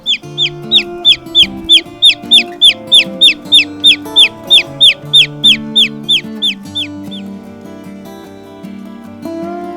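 Cornish Cross meat chicks in a mini barn give a steady run of loud, evenly spaced high peeps close by, then fade to softer scattered calls over a constant low hum.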